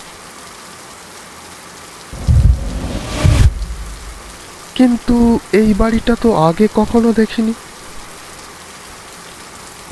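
Rain pours steadily under a brief low rumble, then a person speaks over the constant hiss of falling water.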